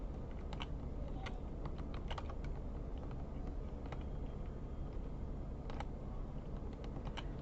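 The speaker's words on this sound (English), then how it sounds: "I'm doing this with a keyboard." Steady typing on a computer keyboard, faint scattered clicks of keys at uneven rhythm over a constant low background hum, with no talking.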